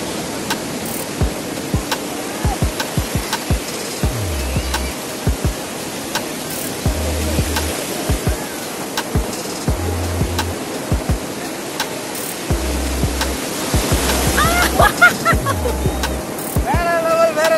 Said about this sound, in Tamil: அலை வருது பாருங்க, ஒரு பெரிய அலை வருது பாருங்க